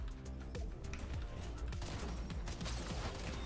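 Rapid gunfire in Fortnite crackles in dense bursts over game music and effects, several sharp shots clustered across the span at a moderate, steady level.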